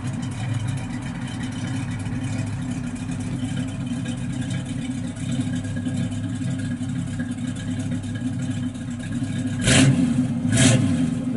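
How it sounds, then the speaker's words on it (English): A 1967 Chevrolet Camaro 327 V8 idles with a low throaty exhaust rumble, then gives two short, sharp revs near the end. "Just sounds real good out the exhaust."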